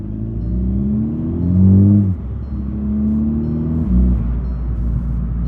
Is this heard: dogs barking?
no